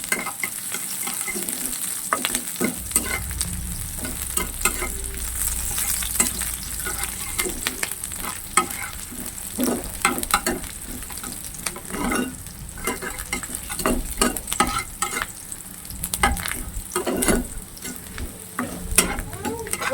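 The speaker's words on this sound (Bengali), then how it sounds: "পেঁয়াজটা হালকা লাল লাল করে ভেজে নেবো।" Onions frying in a pan until lightly reddened, stirred for a Bengali crab, potato and okra dish. A steady, close sizzle runs throughout, broken by frequent scraping and clicking strokes of the stirring utensil.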